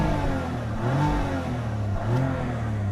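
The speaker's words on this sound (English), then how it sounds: "let's give her a rev and see if we can get some audio of it" 2018 BMW M4 Competition engine revving while parked, two distinct throttle blips rising and falling over a steady idle rumble, heard close and fairly loud, no talking.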